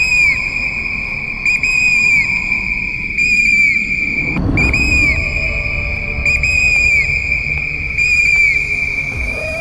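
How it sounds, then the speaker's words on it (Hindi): Shrill, high whistles are blown repeatedly in short bursts by people crossing a dangerous mountain zone in Uttarakhand where bears, leopards and hyenas roam, with a low rumbling gust near the middle. "सीटी बजाते, तेज आवाज निकालते, जितनी जल्दी हो सके हम इस इलाके से निकल जाएं।"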